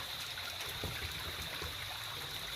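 Spring water trickles out of the ground beneath a mango tree on a hillside near a fishpond, a steady, soft stream of flowing water that stays close and continuous with no talk over it.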